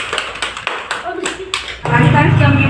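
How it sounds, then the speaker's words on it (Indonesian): Children in a primary classroom clap their hands together in a short burst of rhythmic claps, and then voices take over. "Jadi tepuk tangan dulu."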